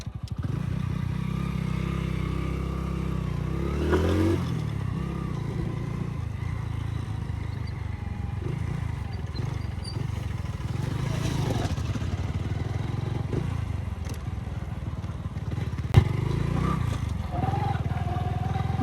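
A Hero Honda Splendor motorcycle being ridden outdoors gives a steady, low engine drone throughout, with small clattering bumps and a short sharp knock near the end.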